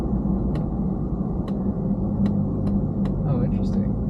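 2019 Ford Raptor pickup truck driving through a canyon, a steady loud engine and road rumble throughout, with a few brief clicks and people talking over it.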